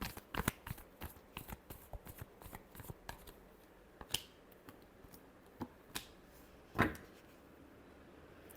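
A deck of tarot cards being shuffled up close, with a run of quick, crisp riffles and flicks, then sparser sharp snaps and a louder final slap, all fairly quiet with no talking.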